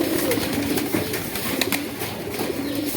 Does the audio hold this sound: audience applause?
no